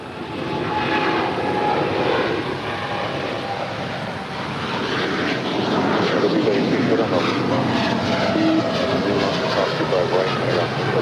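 A United Boeing 787-10 Dreamliner departing Los Angeles for Newark makes a sustained loud jet engine roar that builds slightly, with a voice talking over it.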